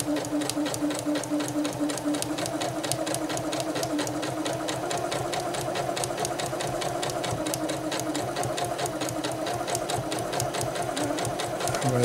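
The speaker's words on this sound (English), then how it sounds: "I'm going to do a back stitch." A sewing machine runs a back stitch in a steady, rapid mechanical chatter that continues evenly and close for the whole stretch, with no talk over it.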